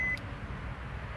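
A short electronic beep at a fishing spot by the water, one steady tone lasting a fraction of a second at the start, then only low outdoor background rumble.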